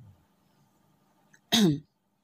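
A single short, loud throat clearing bursts out after near silence.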